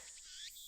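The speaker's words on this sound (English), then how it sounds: "The only sound is the chirping of cicadas." Cicadas chirping in the visual novel game Steins;Gate, a faint, steady high-pitched buzzing drone that wavers slightly over a brief moment.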